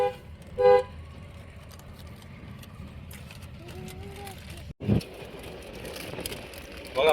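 A car driven along a road with a woman at the wheel gives a steady engine and tyre rumble throughout, broken by a few brief, sharper bursts that may be horn toots.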